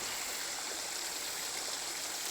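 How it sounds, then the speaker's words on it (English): A small waterfall flows in a steady, continuous rush of water, moderately quiet and unbroken, with no voices over it. "Little waterfall there."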